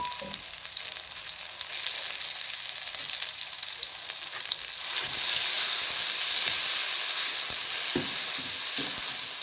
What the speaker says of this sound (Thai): น้ำมันลงแล้วก็ผัดเครื่องแกงก่อนนะครับ